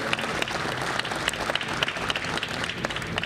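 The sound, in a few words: audience applause at New York Boat Show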